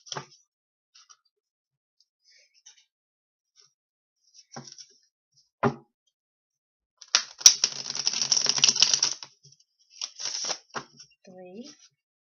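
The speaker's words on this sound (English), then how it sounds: "So let me shuffle this deck" A deck of cards riffle-shuffled close up, a dense fluttering burst lasting a couple of seconds, followed by a few quick shorter riffles and light taps.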